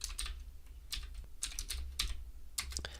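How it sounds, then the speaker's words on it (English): Command-line text is typed on a computer keyboard at an Ubuntu Linux terminal, giving quick, uneven clusters of close key clicks with no talk. "So I'm going to type"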